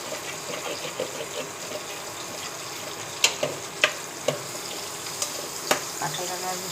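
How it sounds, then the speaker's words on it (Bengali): Eggplant frying with ground spices in a pan sizzles steadily and close, with several sharp clicks and pops of utensil contact scattered through it and no talk. "বেগুন মশলা দিয়েছি, হালকা একটু ভেজে দেবো"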